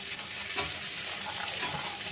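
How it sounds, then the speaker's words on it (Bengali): A dense, continuous sizzle of vegetables frying in a pan as a small amount of green peas goes in, with a faint soft clatter near the start. "মটরশুঁটিটা আমি দিয়ে দিলাম, অল্প দিয়েছি"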